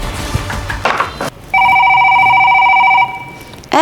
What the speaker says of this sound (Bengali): দেখো না ফোনটা বাজতেছে, একটু ধরো না ফোনটা